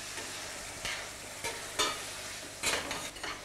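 Marinated meat sizzles steadily as it fries in a pan, with a few louder scraping bursts as the pieces are stirred, close and without talk.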